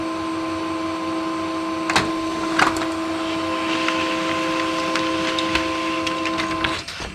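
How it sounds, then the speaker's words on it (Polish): A printer on a DBT-12+ battery tester prints a test report, running with a steady mechanical hum and whir, punctuated by a few sharp clicks and clacks as the paper feeds through. "Kliknijmy drukuj drukarka nam to jeszcze puści"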